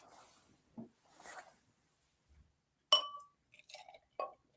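A beer glass swapped for a snifter, heard as a bright glass clink standing out alone, followed by a few smaller taps and clinks and soft rustling between them.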